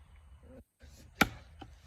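An axe splitting big cherry wood rounds by hand, heard as one sharp, loud crack near the middle, followed by a fainter knock, with quiet rustling and low rumble around it.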